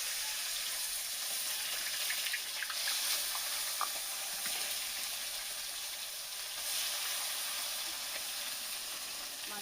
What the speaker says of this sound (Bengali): মাছটা ভাজা হতে থাকে দেখো